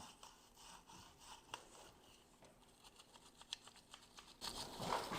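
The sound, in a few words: wire brush scrubbing a car part clean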